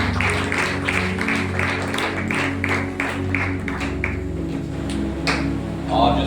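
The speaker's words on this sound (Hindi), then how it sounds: "आइए तारीफ करेंगे जोरदार ताली के साथ।" A church congregation claps loudly together in steady rapid applause, filling the hall for several seconds, with a brief voice near the end.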